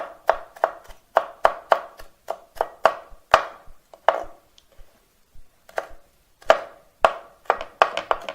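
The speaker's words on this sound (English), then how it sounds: "Just mincing that up once again, small as I can." Knife mincing chili on a chopping board, a series of sharp, close taps in quick irregular runs with short pauses between bursts, no talking over it.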